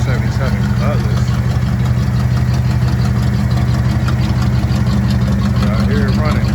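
A 1977 Oldsmobile Cutlass engine idling with a leaking exhaust, a loud, close, steady low rumble with rhythmic pulsing, and someone talking over it.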